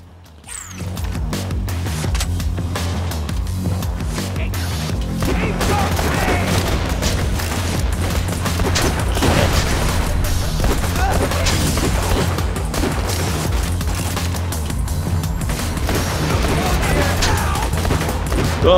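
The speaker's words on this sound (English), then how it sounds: "Oh, he's throwing grenades." Grenade explosions and gunfire in the co-op video game Borderlands 2 form a loud, sustained barrage of booms and rattling shots, with heavy low rumble running throughout.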